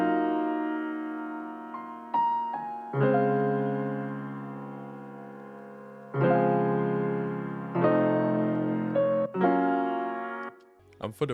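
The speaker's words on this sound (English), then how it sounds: "we used Opus, and then we used this Steinway B piano" Sustained piano chords from a Steinway B played in Opus, struck in a slow loop with each chord ringing out before the next, clean and close with no voices.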